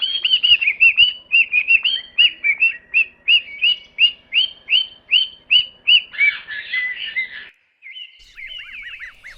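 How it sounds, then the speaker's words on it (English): A parrot gives a rapid run of sharp, repeated squawking calls in a steady rhythm, close and loud, then a brief pause and a few more chirps. "Parrot."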